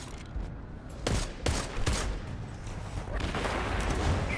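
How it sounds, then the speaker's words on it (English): A grenade and gunfire go off in the video game Destiny 2, with a few sharp blasts near the start and a rumbling burst of gunfire that continues after them. "Oh, a grenade."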